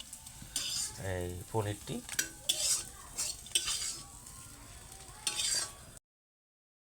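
Paneer and lentil fritters fry in oil in a kadai, with bursts of sizzling and clinking of a metal spoon against the pan, while a voice speaks briefly at the start.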